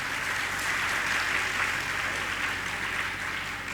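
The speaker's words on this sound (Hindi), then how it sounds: "अपने लिए ताली बजा लो" An audience at a religious discourse claps in a steady, dense wash of applause that lasts the whole time, with no speech over it.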